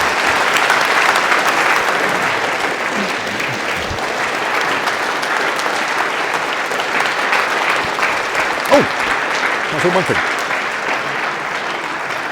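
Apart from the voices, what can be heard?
audience applause for Professor Spiegelhalter after lecture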